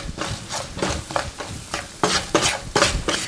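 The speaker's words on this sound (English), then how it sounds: "Just want to cook this over low temperature because I don't want the onions to brown." Onions sweat over low heat in a pan for garlic pilaf, with a utensil stirring in repeated rhythmic scraping strokes over a light, soft sizzle, close and moderately loud.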